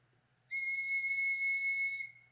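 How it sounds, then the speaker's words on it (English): A single sustained, steady whistle blown as a signal on a radio drama set, starting abruptly and holding one clear pitch for about a second and a half before cutting off, heard alone with no talk. "when you've finished and got your money, you whistle"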